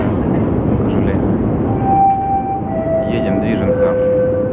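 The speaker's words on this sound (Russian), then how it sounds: "Киевский метрополитен, один из самых глубоких, или самый глубокий" A Kyiv metro subway train runs through deep tunnels, with a loud continuous rumble and rattle of the carriages and faint whining tones rising and falling above it.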